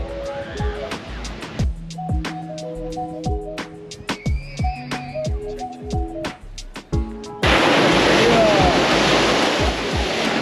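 Steady broadband surf noise of ocean waves breaking on a beach at Ocean City, loud and continuous in the latter part, with clattering and tonal background sounds before it.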